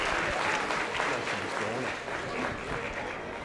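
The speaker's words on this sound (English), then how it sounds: "Let's give all four of these youngsters a round of applause on their way out" Crowd applause at a junior livestock show as young novice competitors exit the ring, a steady, sustained wash of clapping with voices faintly mixed in.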